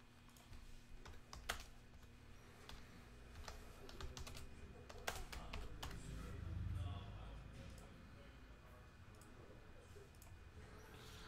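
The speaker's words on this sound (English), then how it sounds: "Let me actually type in the" Typing on a computer keyboard, quick irregular runs of light clicks in brief bursts over a low steady hum, with a person talking in the background.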